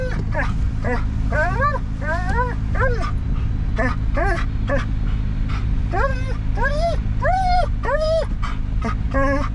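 Dog in a field beside a bridge construction site, whining and yipping repeatedly in short rising cries over a constant low rumble of wind and machinery.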